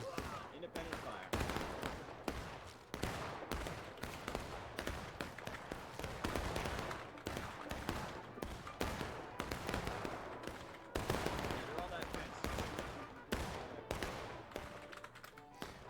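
Dense, sustained rifle fire from many muskets in the War of Rights game: rapid, overlapping cracks popping continuously at varied distances, some sharp and close, others distant, with occasional voices underneath.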